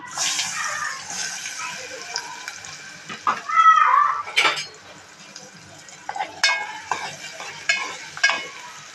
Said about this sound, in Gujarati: કાંદાનો વઘાર કરી લઈએ.